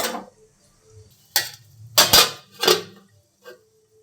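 A metal pot lid set down over pabda fish curry while it cooks, several sharp clanks and rattles spaced across a few seconds in a quiet kitchen.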